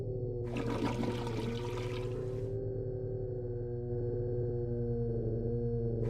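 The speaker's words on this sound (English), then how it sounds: "Let's flush the toilet." A toilet flushes in the video game Red Haze, a loud rushing gush of water for about two seconds, then a lower trickle as it refills, over a steady electronic hum.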